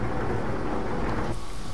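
Heavy rain pours steadily with low rumbling thunder while driving in American Truck Simulator on a road near Querétaro, Mexico, a dense continuous wash of sound that eases slightly near the end, with no voices.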